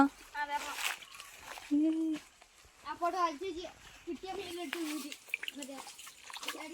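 Someone falls into water while fishing in a paddy field; water splashes and sloshes amid excited voices of children and adults talking nearby.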